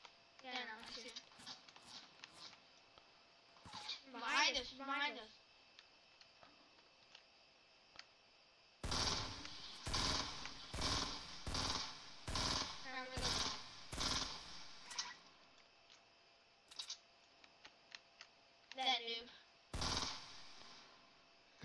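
Fortnite video game gunshots crack in a quick series of sharp, loud bangs in the middle stretch, with a few more later, between bursts of talking.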